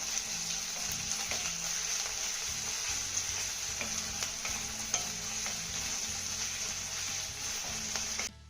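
Thinly sliced onion sautéing in a pan, a steady close sizzle with frequent scraping stirs and light clinks of the spatula, continuous until it cuts off at the end.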